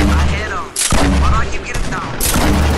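In a shooter video game, loud bursts of gunfire and sharp shots ring out close and dense, mixed with the game's effects noise.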